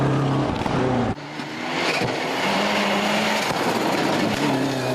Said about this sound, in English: hoping his engine misfire had finally gone